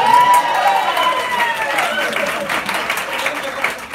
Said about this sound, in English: Also would like us all to have a collective round of applause for Crescendo.